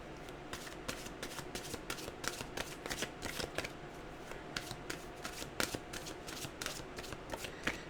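Mantra cards being shuffled close up, a steady run of crisp riffling snaps that repeat quickly and evenly and stand alone with no voice over them.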